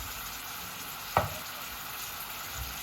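Steaming Jamaican callaloo sizzles gently in a pot under a steady hiss, and a spoon makes one short scraping stir through it partway in.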